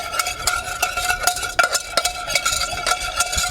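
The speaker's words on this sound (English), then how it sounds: "And start to whisk that butter and flour together." A whisk beats butter and flour together in a pan for a roux, making rapid rhythmic metallic clicks and scraping strokes, close and fairly loud, with no talking.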